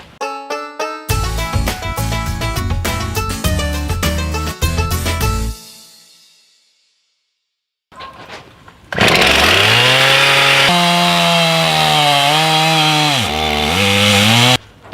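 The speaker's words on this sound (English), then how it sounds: "So I'm gonna get out here today and get going with the chainsaw." A chainsaw with a dull chain bucks up firewood logs outdoors, first cutting in choppy bursts with brief pauses, then dying to silence before restarting at a loud, steady high rev with the engine pitch dipping under load.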